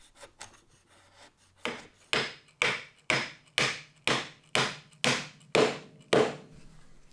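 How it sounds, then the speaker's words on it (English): A chisel paring wood from a Japanese joinery piece: about a dozen scraping cuts, each a short rising rasp that stops sharply, coming in a steady rhythm roughly every half second, close and clear with no talking. "It's easy to remove with a chisel"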